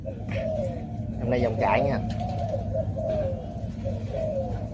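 Racing pigeons coo in soft, repeated throaty calls close by, while someone talks over them the whole time.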